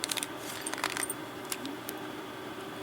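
Small 12x32mm brass keys clinking and jangling with light metallic taps, close up and fairly quiet, a cluster of clicks early on, then sparse single chinks.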